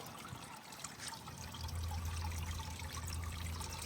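Water splashing and trickling steadily from a garden pond overflow among potted lilies, a continuous close wash that grows louder partway through.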